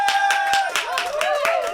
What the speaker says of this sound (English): and cue applause.